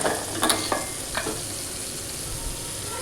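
Mashed boiled potatoes are stirred into a frying pan for batata bhaji, giving a few soft scrapes and dull knocks over a low, even sizzle, close by and without speech.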